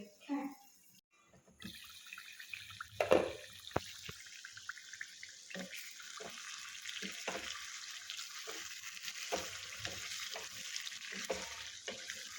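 A soft, steady sizzle of curry cooking gently on a low gas flame, faint and continuous, with occasional clinks and a voice speaking intermittently.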